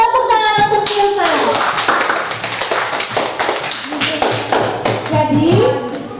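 Children in an Indonesian primary-school classroom clap together in a steady burst of rhythmic hand claps, close and loud, with a teacher's voice talking over the start and end.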